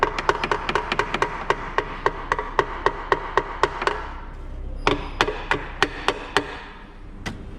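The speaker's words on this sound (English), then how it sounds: "hammer it a little at the oil pan side" A hammer strikes the oil pan side of a Skoda Rapid 1.2 engine during a timing chain job: a rapid, even run of sharp metallic blows, a brief pause, then a second burst of similar hits, close and clear.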